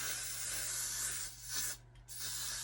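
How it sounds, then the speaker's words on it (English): Freeze spray is sprayed onto the edges of a braided wig in a close, steady hiss, with a short break and a brief final burst, heard alone. "I'm gonna take some freeze spray"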